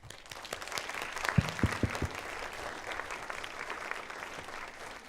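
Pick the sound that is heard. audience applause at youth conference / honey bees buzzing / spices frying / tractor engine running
audience applause at youth conference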